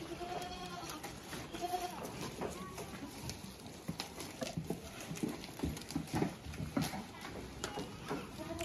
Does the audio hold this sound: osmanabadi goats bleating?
yes